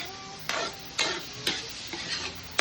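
A spoon stirs pancit noodles with ground pepper and liver in a hot pan, making sharp scraping strokes about every half second over a soft, steady sizzle, close and clear.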